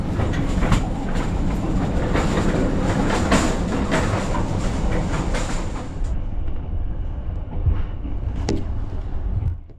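A passenger train on the long Saigon to Hanoi run in Vietnam rolls steadily along the tracks, a dense continuous rumble and clatter heard from inside the carriage, easing slightly toward the end.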